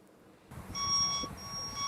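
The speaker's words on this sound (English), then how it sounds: "Why is it beeping when he's going forward?" A steady electronic beeping tone, like a vehicle reversing alarm, starts after a brief silence and repeats in short bursts over a low rumbling background, moderately loud with no talking.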